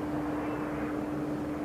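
Beriev Be-200 amphibious seaplane engines droning steadily during a demonstration flight at an airshow, a continuous broadband roar with a sustained tonal hum, no voices.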